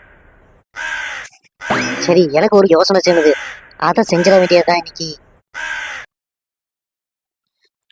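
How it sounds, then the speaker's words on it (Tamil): A crow caws in a comedy cartoon, giving a few harsh calls mixed in with someone speaking. "என்ன காக்கா இங்கேயே சுத்திட்டு இருக்கு"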